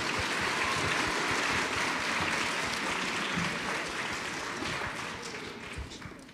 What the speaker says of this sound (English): So round of applause for Mr. Ormsby.